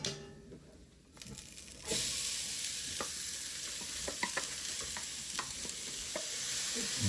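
Chopped onion dropped into a pan of browning garlic for chili: a quiet start, then a sudden loud, close sizzle that holds steady, dotted with small clicks and scrapes from stirring.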